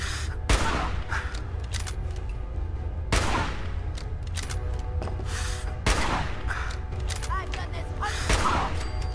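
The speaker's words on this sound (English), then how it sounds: "Shooting in the knees." Gunfire from the video game Fallout 4: three loud, sharp shots spaced a few seconds apart, each with a short ringing tail, over a steady low game-ambience hum.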